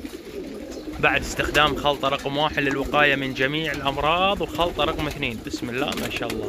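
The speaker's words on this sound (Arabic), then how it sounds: "تشوفون الحمام جالس على البيض" Pigeons in a loft, some sitting on eggs, coo steadily in the background while someone talks loudly over them nearby.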